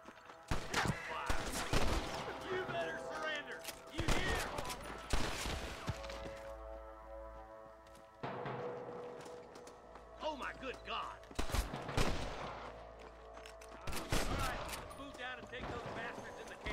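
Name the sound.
gunfire in the video game Red Dead Redemption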